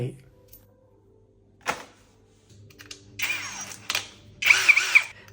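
A power drill with a steel chuck bores into concrete while mounting an outlet box, in two short, loud whirring bursts separated by a pause, with quieter handling clicks before them.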